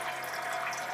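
Clear homebrew wort draining from a vessel and filling another during a first all-grain brew, a steady close splashing pour of liquid with no talk.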